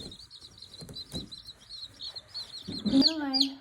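Baby chicks chirping in high, rapid peeps that repeat throughout, close by, growing louder toward the end, with brief faint sounds of a person in the room.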